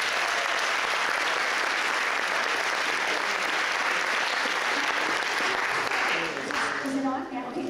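Sustained audience applause for inductees at a sports hall of fame awards ceremony, a full, even wash of many hands clapping that tapers slightly near the end.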